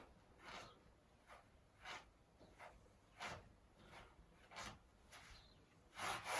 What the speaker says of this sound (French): Je viens frotter les ongles, tous les ongles contre le sol.